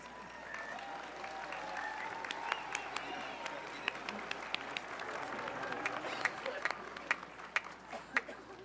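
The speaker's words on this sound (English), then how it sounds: "thank those people with a round of applause" Applause from a commencement crowd at Elmhurst College, a broad, sustained wash of clapping with sharper individual claps popping out and murmuring voices underneath.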